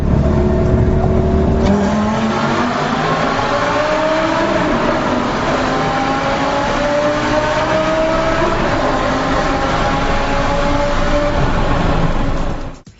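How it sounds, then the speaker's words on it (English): A 2008 Lamborghini Gallardo Superleggera engine roars continuously in a tunnel, its exhaust pitch climbing and dropping through repeated low-gear changes, with a reverberant, enclosed echo throughout and no talking. "head for the nearest tunnel and give it plenty in the low gears just to hear the exhaust note"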